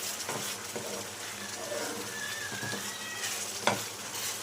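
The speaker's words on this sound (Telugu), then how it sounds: "ఇందులో కొంచెం గరం మసాలా యాడ్ చేసుకోండి, కొంచెం కలుపుకోండి." Mutton chukka sizzles and fries in a pan as garam masala is stirred in, with soft scraping stirs and a faint utensil clink over a steady, quiet sizzle.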